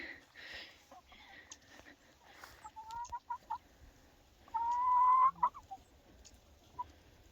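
Chickens on a chicken farm cluck in scattered bursts, with one longer, louder squawking call near the end and softer rustling between calls, close by and with no talk.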